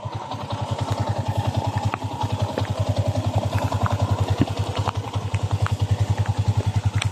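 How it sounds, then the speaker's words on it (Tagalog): A borrowed motorcycle's engine runs steadily close by, a rhythmic putter with a loose mechanical clatter that holds an even pulse throughout. "Nakahiram ako ng motor."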